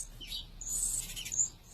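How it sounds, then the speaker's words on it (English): Baby birds chirp at a wildlife rescue center, their thin high tweets rising in short overlapping bursts, fairly close and steady against a quiet low hum. "In the summer, NAR's counters are crowded with boxes containing all sorts of baby birds."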